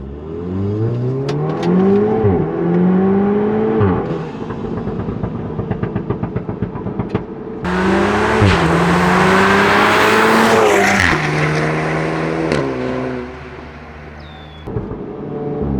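A Volkswagen Golf R Mk7 engine roars at wide open throttle, pitch climbing through several gear changes with a loud rasping exhaust, close and continuous.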